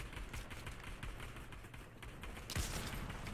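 Assault rifle fire in a shooter video game, a fast, faint rattle of shots running continuously for a few seconds, ending in a sharper, louder burst near the close.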